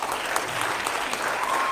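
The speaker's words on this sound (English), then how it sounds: "give him a hand clap" Congregation in a church applauding a graduate, a dense, even patter of many hands clapping at steady loudness throughout, without voices rising above it.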